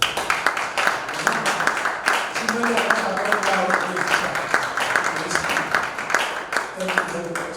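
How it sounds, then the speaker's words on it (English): Teachers at a retreat session clap for themselves in a steady wash of applause that persists through the whole stretch, with voices and shouts mixed in over the clapping. "if you are proud to be a teacher, come and clap for yourself"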